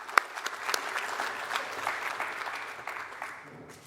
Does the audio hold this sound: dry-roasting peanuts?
no